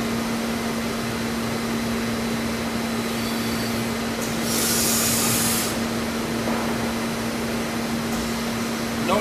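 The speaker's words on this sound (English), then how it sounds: "No need to dress tapers in the wheel, we just index the wheel head and grind the tapers." A Studer S33CNC universal cylindrical grinder grinds a taper on a workpiece at a trade show, with a steady mechanical drone and hum, plus a brief hissing surge midway as coolant or the wheel engages.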